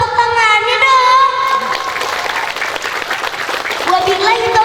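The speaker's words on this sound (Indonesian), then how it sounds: "tolong tepuk tangannya dong" Applause from the audience at a Quran memorization (tahfidz) graduation ceremony at an Islamic boarding school, loud and sustained, with a voice speaking and singing over it at the start.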